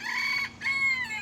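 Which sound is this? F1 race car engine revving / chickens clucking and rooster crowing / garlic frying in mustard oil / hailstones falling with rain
chickens clucking and rooster crowing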